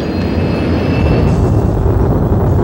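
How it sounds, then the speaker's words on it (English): Twin jet engines of an SR-71 Blackbird roar at max thrust with afterburner, a loud, dense, unbroken blast filling the whole clip with no voices over it. "Two good engines. Max thrust."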